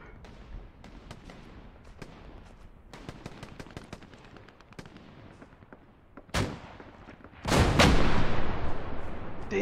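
Tank cannon fire in the Hell Let Loose video game: heavy blasts ring out near 6.3 s and again around 7.5 s, the second loud and sustained, after a stretch of scattered distant gunfire crackle.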